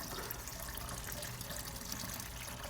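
Water pours steadily into a small planted freshwater aquarium (Clear Mini 16), a continuous soft splashing rush with no talking.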